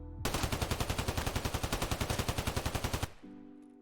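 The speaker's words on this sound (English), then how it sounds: "So I'm gonna mag dump and then try to bring it back down to center" A SCAR rifle in Escape from Tarkov fires a full-auto magazine dump, about thirty rapid, evenly spaced loud shots in one unbroken three-second burst, then cuts off into a faint ringing tail.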